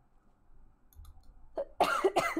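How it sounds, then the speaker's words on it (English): A person coughs twice in close succession, loud and near, after a quiet stretch while playing the survival raft game. "Cough, cough."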